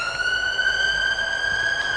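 An emergency vehicle siren in London wails in a steady, sustained tone that slowly rises in pitch, heard at moderate distance over faint background hum, with no speech.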